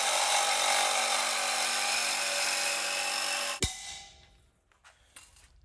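A saw cuts through the thick downpipe of a salvaged, wrecked Mitsubishi Evo IX with a loud, steady rasping buzz for several seconds, then stops abruptly with a sharp clunk as the noise fades into quiet shuffling.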